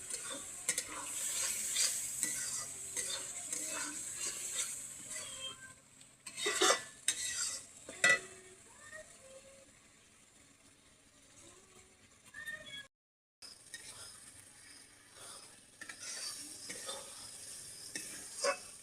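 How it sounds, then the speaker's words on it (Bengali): Spiced masala for a desi chicken curry fries in a pan, a soft continuous sizzle punctuated by clinking and scraping stirs of a metal spoon against the pan, with brief pauses and quiet stretches. "এবার ভালো মতো এটা ভেজে নেব। মশলাটা একটু লাগিয়ে দিচ্ছি"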